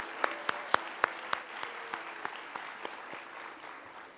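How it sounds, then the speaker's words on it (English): An audience applauds a public-service group at a civic meeting, with scattered sharp claps that are loudest at the start and thin out over about four seconds. "let us all just give a round of applause to all these folks"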